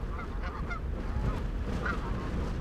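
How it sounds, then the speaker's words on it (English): Several Canada geese honk repeatedly at moderate distance, their nasal calls overlapping above a steady low rumble of wind or flowing water. "Canada geese, they don't make for very good neighbors."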